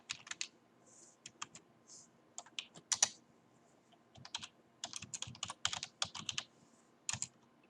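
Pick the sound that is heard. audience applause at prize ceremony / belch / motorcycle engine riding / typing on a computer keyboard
typing on a computer keyboard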